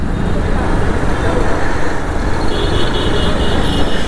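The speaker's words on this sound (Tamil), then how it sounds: "ரொம்ப இங்கே டிராஃபிக்காக இருக்குது." Heavy, chaotic road traffic in Tirupur, a dense continuous roar of engines and tyres close by, with a faint horn-like tone partway through and voices mixed into the din.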